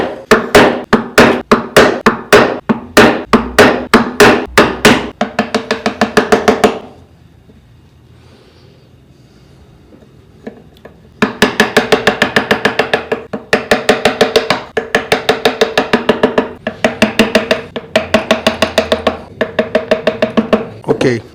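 A carving chisel removes wood from a workpiece in rapid, sharp, regular taps, loud and close, with a pause of several seconds in the middle before the steady tapping resumes.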